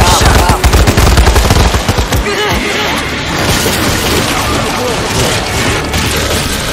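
Rapid automatic gunfire against a zombie horde in World War Z Aftermath, a loud dense stream of shots that dominates at first, then continues as chaotic crackling combat noise with voices talking over it.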